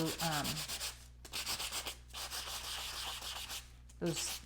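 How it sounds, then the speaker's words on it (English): A manicure file is rubbed back and forth across a raised, embossed paper surface in steady, close, scratchy strokes, with a faint voice at the start and end. "you're just going to sand across the raised surface"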